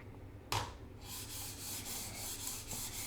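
Plastic mouse skates dragged across a Pulsar Superglide 2 glass mousepad, producing a sudden scrape followed by a series of close, rhythmic gritty rubbing strokes.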